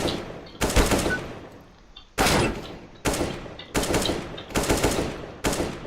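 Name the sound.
gunfire from pre-fire practice in the video game CS:GO on Mirage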